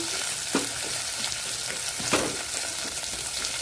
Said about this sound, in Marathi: त्याच्यामध्ये टाकूया कढी, थोडासा कांदा, चिरलेला कांदा आहे